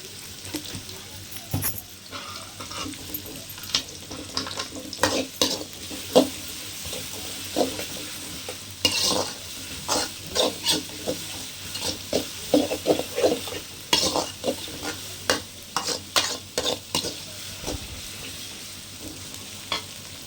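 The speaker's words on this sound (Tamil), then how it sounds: "இப்போ நல்லா எண்ணெய் காஞ்சிருச்சு பாருங்கள் நம்ம ஒரு நாலு வெங்காயம் பெரிய வெங்காயம் நாலு அண்ணா மீடியம் சைஸ் வெங்காயம் ஒரு நாலு வெங்காயம் அரிஞ்சு வச்சுருக்குறோம் போட்டோம்" Four medium-sized onions, chopped, frying in hot oil with a little salt while being stirred for a quail gravy, giving a steady sizzle with repeated scraping and clattering stirs throughout.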